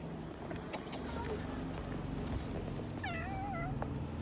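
A cat on a street in Matera lets out a clear, drawn-out meow near the end, close by, over street ambience and scattered voices.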